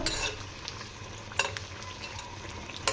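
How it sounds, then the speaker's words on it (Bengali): Bean fritters fry slowly in hot oil with a steady soft sizzle, broken by a few brief scraping clicks of a spatula against the pan. "সিমে আস্তে আস্তেই ভাজছি"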